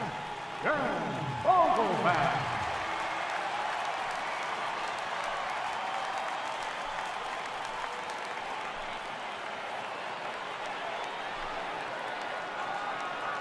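Stadium crowd in an MLB baseball video game rising for a 3-2 count: a broad, sustained roar of cheering that swells early and holds steady, with brief louder bursts near the start.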